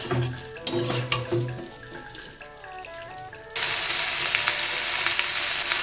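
Fried drumstick pieces, pointed gourd and potato get stirred into sizzling cooked-down masala in a pan, with a steady loud frying hiss and scraping strokes, the sizzle jumping louder as the vegetables go in.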